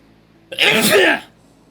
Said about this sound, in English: I guess a sneeze is kind of an explosion